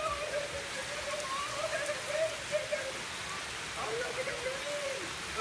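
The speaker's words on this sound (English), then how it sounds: "We're gonna go out there in the rain." Steady rain falls outdoors during rush hour, a constant hiss spread evenly across the clip, with faint overlapping chatter and a thin whistle-like tone drifting beneath it.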